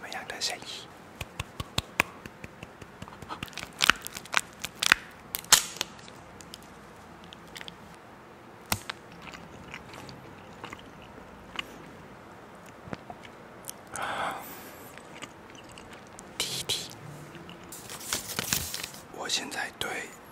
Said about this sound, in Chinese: 这些传统的糖果在嘴巴里面会发出什么样的声音